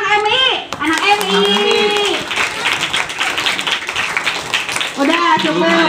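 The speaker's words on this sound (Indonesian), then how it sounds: "tepuk tangan untuk anak MI" Children clapping for the MI pupils at a school games event, a few seconds of lively overlapping claps from a crowd, with excited voices talking and shouting before and after.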